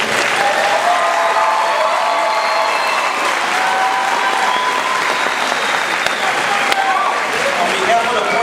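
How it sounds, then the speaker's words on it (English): Loud applause for a high school graduating class at a 2013 commencement, a thick roar of many hands clapping close by, with cheering voices and crowd chatter mixed through it. "Let's give them a round of applause."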